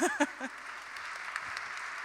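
Audience applause for entrepreneur panel guests at an AI business event, a steady wash of clapping that follows a brief bit of speech at the start and holds at moderate level to the end.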